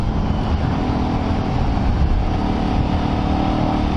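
A Toyota Carina rally car at a stage rally, its engine droning loudly and steadily as it drives past, with no talk.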